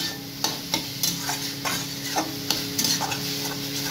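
A watery vegetable curry is stirred and fried in a kadai, with a metal spatula scraping the pan in quick, irregular strokes over a soft, close sizzle.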